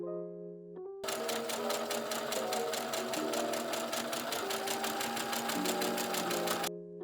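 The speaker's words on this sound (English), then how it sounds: "Sew along the top of the triple fold." A sewing machine stitches along the top of a triple-folded hem on a kids' summer top, a fast, even mechanical whirr that runs steadily for several seconds, with soft background music at start and end.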